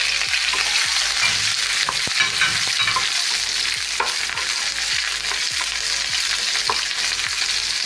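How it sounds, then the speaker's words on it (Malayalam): Dried red chillies frying in hot oil for an onion curry, a dense continuous sizzle up close with scattered stirring scrapes and light pops throughout. "പിന്നെ വറ്റൽമുളക് ചെറുതാക്കിയിട്ടുണ്ട് ഇട്ടിട്ടുണ്ട് അത് മൂന്നെണ്ണം"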